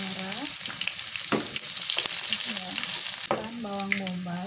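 Shallots fry in hot oil with a constant bright sizzle and a few stirring scrapes, close to the pan, while a voice talks over it at the start and again toward the end.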